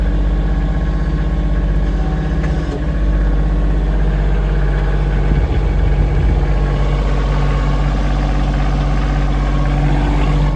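A Kioti CK2610 HST cab tractor pushes over a foot of fresh snow, its engine droning loud and steady with a low rumbling hum and constant vibration, with no talk.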